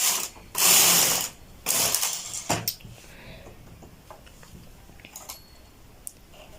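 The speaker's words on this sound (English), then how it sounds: "Okay, so let's start off, knit our first row." A domestic knitting machine fitted with a lace carriage is pushed across the needle bed at tension 6, giving two loud ratcheting, clattering sweeps followed by quieter mechanical clicks and taps as the row finishes.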